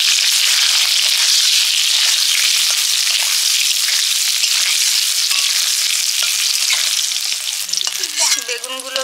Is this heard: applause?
no